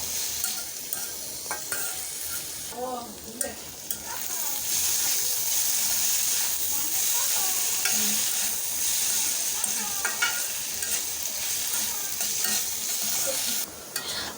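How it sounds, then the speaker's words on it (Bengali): Potatoes and onions fry with salt and turmeric in a pan, giving a steady, close sizzle with intermittent stirring scrapes throughout. "এখন এগুলোকে একটু ভালো করে ভেজে নেব।"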